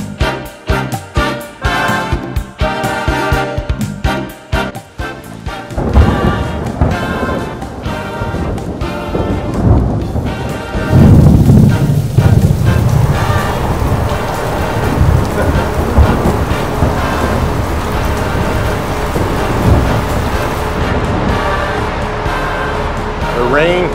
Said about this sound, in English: The rain finally hit us